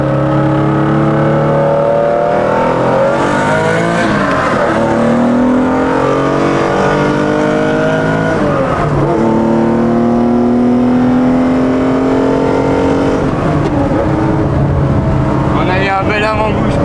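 A Porsche 911 engine revs hard inside a tunnel, loud and booming with echo, the pitch climbing and falling through several sweeping revs and gear changes across the whole stretch, with a voice briefly heard over it.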